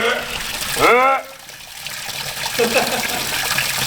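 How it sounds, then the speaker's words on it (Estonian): Water rushes and gushes while an Audi 80 car radiator is flushed through to clear out rusty coolant, a steady splashing flow; a voice speaks briefly over it near the start. "Peseme radikad kõik läbi, laseme vett sisse."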